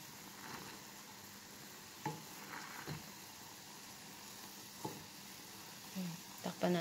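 Noodles cooking in a pan, a faint steady sizzle broken by a few soft clinks and knocks of utensils, with a quiet voice speaking briefly.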